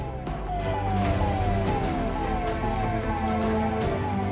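A vehicle hooter siren on a VIP car wails in repeated rising-and-falling sweeps, loud and continuous over traffic rumble.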